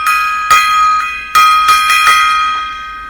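A gong struck in a short solo of several uneven hits, each loud, bright attack ringing out in a shimmering metallic sustain that overlaps the next stroke.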